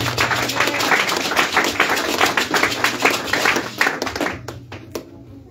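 A church congregation claps in praise at an Easter service. Many hands beat in a dense, fairly steady rhythm that fills the room, then thins out to a few scattered claps at the end.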